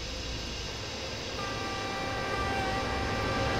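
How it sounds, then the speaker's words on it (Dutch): A passing cargo train in a railway simulator game sounds a long horn over a steady, loud rumble of rolling wagons, the tone holding for a couple of seconds with no talk. "Tutert die trein nou serieus naar mij?"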